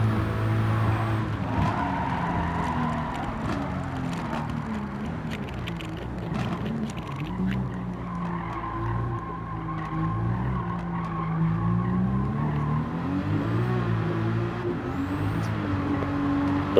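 Race car tires squeal and skid continuously as the car wall-rides along a barrier in Gran Turismo 7, with steady engine drone and scraping body contact throughout, loud and unbroken.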